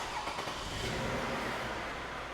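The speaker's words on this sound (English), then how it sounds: "We're going to start the car" A Toyota V6 car engine starts, then runs on in a steady, loud, close rumble for the rest of the moment, with no voices.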